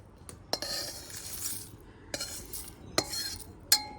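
A metal pan of lightly fried spices for a vegetarian moong dal with Malabar spinach is lifted off the stove, giving several sharp, close clinks and clatters of cookware spaced over a few seconds, with no talk.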